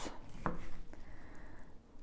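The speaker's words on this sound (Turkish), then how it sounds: "tertemiz limonlarımızı şimdi doğruyoruz" A knife chops lemons on a kitchen board, giving one sharp, distinct cut near the half-second mark among softer scraping and handling sounds.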